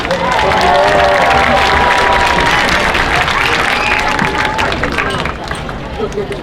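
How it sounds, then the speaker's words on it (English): Crowd applause and cheering for the valedictorian at the Buena High School 2019 commencement ceremony, loud sustained clapping with crowd hubbub that tapers off near the end. "one final round of applause for our 9th valedictorian"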